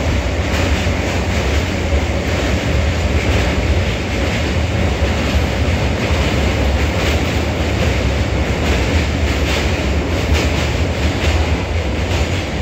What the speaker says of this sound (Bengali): ব্যান্ডেল থেকে কিন্তু ট্রেন ছেড়ে দিয়েছে, আর আদি সপ্তগ্রামের ওপর দিয়ে আপাতত যাচ্ছে।